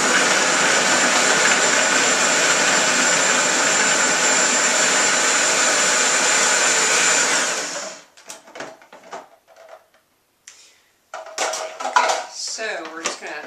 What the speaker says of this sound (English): that will help to be able to chop it up finally in your food processor